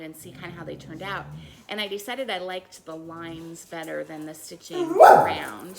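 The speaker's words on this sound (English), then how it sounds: "Sorry about the dogs." Dogs bark in the background while a person talks steadily, with one louder burst of barking near the end.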